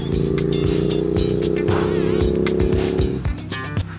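A Royal Enfield parallel-twin motorcycle engine revs hard with a steady, strong droning tone close by, then the pitch drops away as the throttle eases off near the end.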